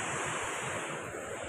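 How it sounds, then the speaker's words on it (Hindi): Water surges hard through a river below a dam in Yadgir, Karnataka, where the gates have been opened. A loud, steady rushing roar fills the clip without a break, close to the microphone, with some wind buffeting and no talking. "अभी जो है पानी की लहर ज़्यादा भी है।"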